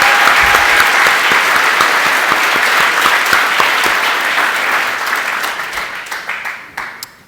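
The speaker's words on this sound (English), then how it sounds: "So can we please give Ronit a big round of applause and good luck for tomorrow." An audience at a startup demo day breaks into loud, dense applause that carries on steadily for several seconds before thinning into scattered claps at the end.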